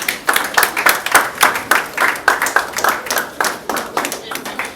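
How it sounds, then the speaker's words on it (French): Applause for the officiant at a civil wedding ceremony in the Democratic Republic of Congo: a crowd claps in a brisk, fairly even rhythm, loud and close, with voices calling out underneath. "Acclamons l'officier."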